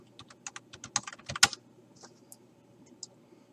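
Someone types on a computer keyboard, with a quick run of light key clicks followed by a few scattered taps in a quiet room.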